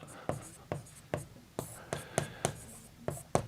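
Chalk or marker taps and short strokes on a board while writing out a math problem, a quick irregular series of sharp scrapes, with a soft voice explaining in the background.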